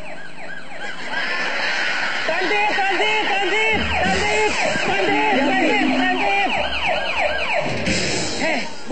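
A wailing ambulance-style siren, apparently imitated by a voice, rises and falls over and over amid overlapping speech and studio noise on a comedy stage show.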